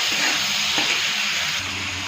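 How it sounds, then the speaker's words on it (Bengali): Fresh chili paste frying in a pan with chili powder, a dense, even, hissing sizzle held close and loud throughout, no speech. "একটু ভাজা ভাজা করবো।"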